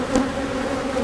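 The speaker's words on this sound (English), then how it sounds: "They are a strong box of bees." Honeybees swarm around a strong hive in an outdoor apiery, a steady close drone of buzzing wings holding an even pitch with no voices.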